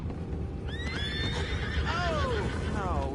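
Horse in a PS4 game giving a loud whinny with rising and falling squealing pitch, followed by a second neigh, over steady background ambience with faint hoof clopping.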